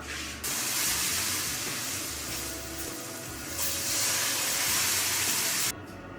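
Milk poured into a hot pan of browned flour mixture gives a loud, steady hiss and sizzle that swells partway through and cuts off near the end, with no voices.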